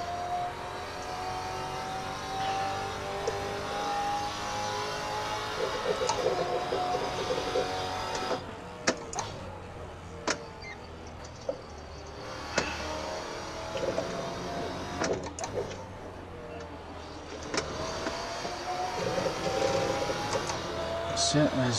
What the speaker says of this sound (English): And I really like this Maserati. It's real fun to drive.